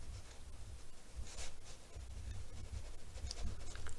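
A pen scratches across paper, writing out a geometry statement to prove for a triangle problem, with short close strokes and pauses, no talking.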